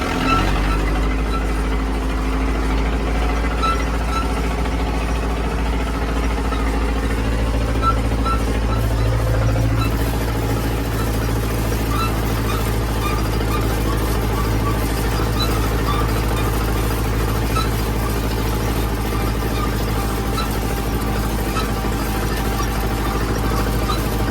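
Engine of a vehicle pulling a modified Polish sun-wheel hay rake sets off in third gear, a steady low rumbling drone with a brief pitch shift as it moves off, continuous and close throughout.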